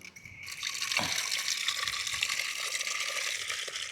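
Water pours steadily into a cooking pot for potatoes at a beach campground, a continuous close gushing splash that holds at even loudness for several seconds, with no talk.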